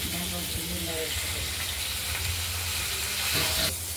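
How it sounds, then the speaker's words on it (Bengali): Pieces of freshly cut rohu fish sizzle steadily in hot oil in a pan, a loud, continuous crackling hiss at close range, with a brief louder burst near the end. "মাছগুলো ভাজা হয়ে গেছে"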